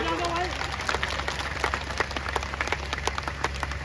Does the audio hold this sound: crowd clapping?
yes